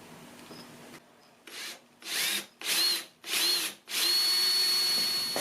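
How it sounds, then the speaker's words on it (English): A power drill runs in a series of short bursts, about five, each whining up and biting into car hood metal for vent louvers, with the last one held longer. "take your drill and drill those locations"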